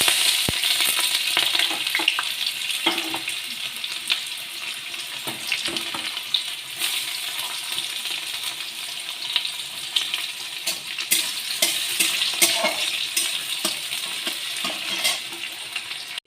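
Chopped onions hit hot oil already holding bay leaves and cinnamon, setting off a loud, steady, close sizzle that runs unbroken with occasional stirring clinks and scrapes, no voices over it.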